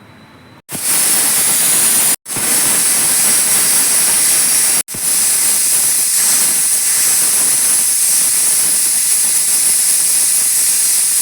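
A pressure cooker cooking cowpea biryani vents steam in a loud, sustained hiss, briefly cutting out a few times before carrying on at full strength.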